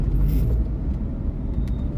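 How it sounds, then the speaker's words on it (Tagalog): Road traffic in a Dubai jam gives a steady, close low rumble of engines and tyres with a faint hiss, briefly and without talking. "Traffic jam on the way home."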